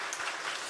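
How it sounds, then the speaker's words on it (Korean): Audience applause for church school teachers during an evening worship service, a brief burst of steady clapping with no talk over it. "우리 다시 한번 교사들 위해서 박수하겠습니다"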